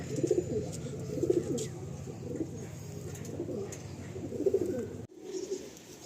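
Madrasi pigeons coo in a home loft, a steady run of soft, low, rolling calls repeated in a rhythmic pattern against a constant background hum, with no talking.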